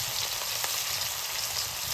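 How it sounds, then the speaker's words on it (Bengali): Fish fry lightly in a pan with an even, soft sizzle that holds steady and fairly quiet throughout. "মাছগুলো আমরা খুব কড়া করে ভাজবো না, হালকা ভেজে নেব।"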